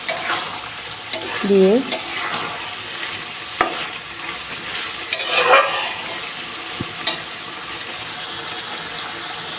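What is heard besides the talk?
stir-frying chicken with spices in a pan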